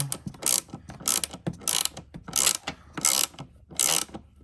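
Ratchet wrench tightening a 10 mm bolt during an air-oil separator install on a Shelby GT350R, six evenly spaced bursts of rapid clicking, close and crisp, with no talk.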